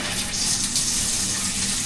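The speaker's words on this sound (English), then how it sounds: "Now we've got a shower running" A shower runs during a tap service on a dripping shower head, giving a steady hiss of spraying water that stays loud and even from start to finish.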